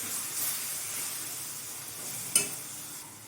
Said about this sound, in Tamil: இப்போது தக்காளி சேர்த்ததுக்கப்புறம் ஒரு 2 நிமிஷம் நல்லா வதங்கட்டும்